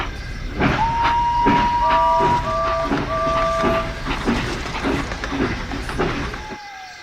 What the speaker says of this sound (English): With a whoosh of steam, Henry departed right on time.